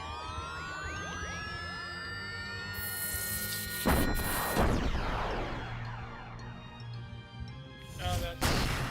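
Artillery fire from a Super Robot Wars battle: synthetic game effects with sweeping tones, then a loud crashing impact burst near four seconds and another heavy hit near the end, over a steady backing music bed.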